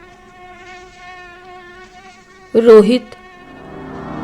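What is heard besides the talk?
mosquitoes buzzing, horror story sound effect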